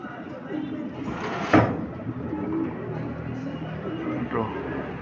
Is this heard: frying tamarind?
no